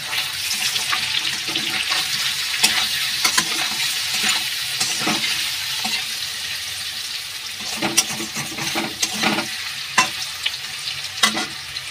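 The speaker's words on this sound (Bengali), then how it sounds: "ওটা আমি ভালো করে একটু নাড়িয়ে নেবো, একটু উল্টে পাল্টে।" Paneer frying with turmeric in a pan, stirred and turned over, with continuous sizzle and repeated scraping knocks of the spatula, close and steady for the whole stretch.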